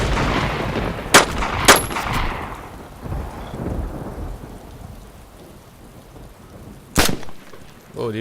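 Gunshots ring out in the video game DayZ over steady rain, with two sharp close shots near the start and a third several seconds later.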